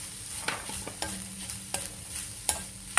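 Grated coconut fries in a pan for a yam teeyal, a soft continuous sizzle broken by repeated sharp scraping stirs at a steady pace, close and moderately loud with no voices.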